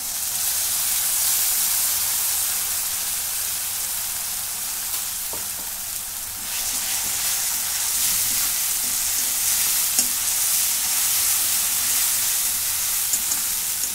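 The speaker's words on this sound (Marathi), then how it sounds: "ही चांगली परतून घेते. तेल सुटेपर्यंत परतून घेतलंय." Ginger, tomato and chili paste sizzles steadily in hot oil while being sautéed until the oil separates, a continuous close frying hiss with occasional stirring scrapes and no talking.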